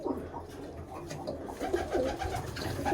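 Birmingham Roller pigeons coo in a wire-floored loft with stainless steel drinkers, soft repeated throaty calls overlapping at close range.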